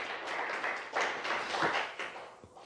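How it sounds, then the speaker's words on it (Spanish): A congregation at a church service breaks into applause, many hands clapping together in a thick, rushing wave that swells and fades slightly, heard alone without speech. "Denle un aplauso al Señor, un aplauso a Jesús"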